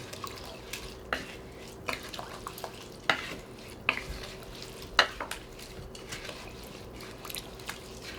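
A rice mixture for sweet yaksik stirred in a pot after water is poured in, with irregular spoon knocks and scrapes against the pot over soft dripping and watery sloshing, close and fairly quiet.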